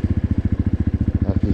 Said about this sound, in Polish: Jakieś moto.